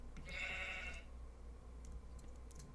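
A single sheep bleats in the Minecraft video game, one short call near the start. Faint clicking and soft background noise follow, and no one speaks.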